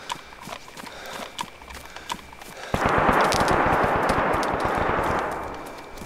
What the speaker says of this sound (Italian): Mi sembrava di sentire proiettili lì.